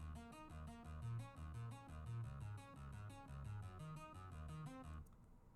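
Synth arpeggiator cycling rapid, evenly spaced notes over a shifting chord bass line, a steady rippling pattern at low volume that cuts off near the end.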